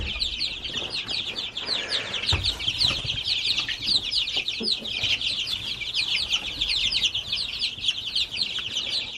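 Rusty the rooster and his hens clucking and chattering in a new coop on a sunny morning homestead, a steady chorus of bird calls with rustling and occasional wing flaps.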